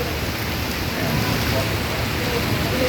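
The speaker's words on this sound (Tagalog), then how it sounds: "Gawa nga po ng sobrang lakas ng ulan" Steady, dense rain from a typhoon roars continuously, a heavy downpour filling the whole space without a break.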